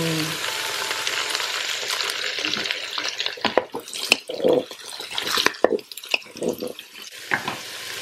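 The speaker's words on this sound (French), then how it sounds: "Je vais mettre du coup la courge que je vais verser dedans." Diced squash poured into chorizo and onion sizzling in a Cookeo multicooker: a steady loud frying hiss gives way to stirring clatter and irregular scrapes and bumps near the microphone.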